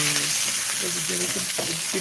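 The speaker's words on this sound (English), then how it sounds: "You don't burn the chicken by frying it, So you can leave it there for a while" Chicken sizzles loudly in a hot pan, a continuous crackling fry close up, with a faint voice murmuring underneath.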